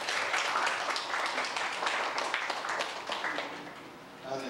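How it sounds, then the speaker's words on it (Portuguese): Wedding guests applaud the couple with a dense round of clapping that fades gradually toward the end, with some voices mixed in. "Uma salva de palmas para esse casal."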